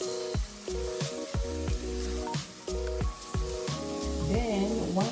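Beef stroganoff sizzles in a pan with a spoon or spatula stirring, giving a steady frying hiss punctuated by regular scraping knocks and clinks against the pan, close and moderately loud.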